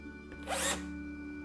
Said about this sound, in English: drill a round hole, drill a hole through the other bit